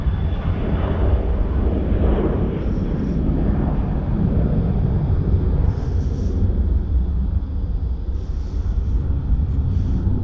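A Qantas airliner on flight QF423 taking off from Sydney Airport for Melbourne, a loud, steady, broadband jet roar that fills the whole stretch without letting up, heard from a distance outdoors.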